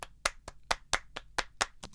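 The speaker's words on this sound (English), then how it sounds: "So here's the rhythmic claps." Rhythmic hand claps from a song mix recorded in a bedroom land nine times in about two seconds. Each sharp, bright clap is evenly spaced and stands alone with no voices.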